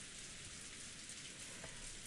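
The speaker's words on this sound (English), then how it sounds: "the dining hall was simply filled by the sound of the rain." Steady rain falls in the game Umineko: When They Cry, a soft even hiss of drops on a surface filling the dining hall, faint and continuous with no voices.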